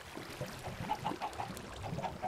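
Chickens in the Minecraft modpack Crazy Craft give a string of short, evenly spaced clucks over a low, busy game background, moderately close and fairly quiet.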